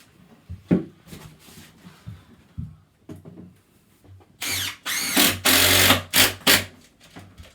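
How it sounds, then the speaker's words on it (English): Cordless drill driving screws through a glued board into breeze block during a bathroom setup, heard as a few short bursts of whirring with brief pauses, loud and close after quieter knocks and handling sounds. "I just pin it with a couple of screws straight through, straight into the breeze."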